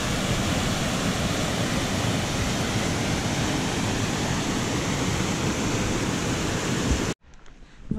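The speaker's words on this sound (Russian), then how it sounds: "Вот там шумит речка." Loud, steady broadband rush of a river near Morskie Oko in Poland's mountains, a dense continuous roar close by that cuts off abruptly near the end, leaving a faint quiet background.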